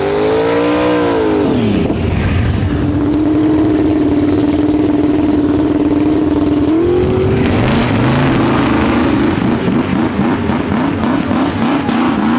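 A race car engine with a troubled transmission drones loudly as the car makes a pass, holding a steady pitch before shifting and climbing again, close and dominant throughout.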